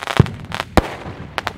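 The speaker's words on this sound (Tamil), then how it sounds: "இப்போ புஷ்வான மாதிரி வந்து சவுண்டோடு வருது, செம்மையாக இருக்குது, சூப்பராக இருக்குது" A Sivakasi flower-pot style firework going off produces a brief, crackling spray with a few sharp pops over a hissing background.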